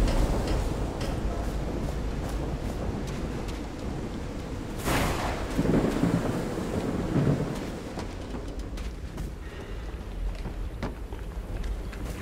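Rolling thunderstorm in the game Call of the Sea, a steady rain-like hiss throughout with one sharp loud crack of thunder near the middle followed by deeper rumbles fading back into the downpour.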